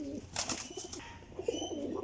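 Pigeons, high-class flying birds kept by a breeder, coo softly nearby in short throaty phrases with some rustling and faint chirps in the background.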